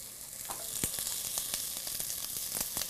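Onions browning in a pan over a finicky heat source, a soft continuous sizzle with scattered crackling pops, fairly quiet and without talk.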